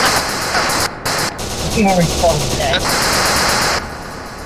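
Rapid automatic gunfire in SCP: Secret Laboratory, heard as loud close bursts of rattling shots with brief pauses, and a player's voice speaking over the shooting.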